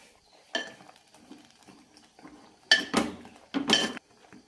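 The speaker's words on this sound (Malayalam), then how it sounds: "മുരിങ്ങക്കായ വെന്ത് നല്ല സോഫ്റ്റ് ആകുമ്പോൾ മാങ്ങ ഇടാം മീഡിയം ഫ്ലെയിമിൽ അടച്ചു വെച്ച് വേവിക്കാം" Mango pieces go into a pot of simmering drumstick curry, then a few sharp clanks and clatters of a metal lid and utensils sound close by in separate bursts, with quiet pauses between them.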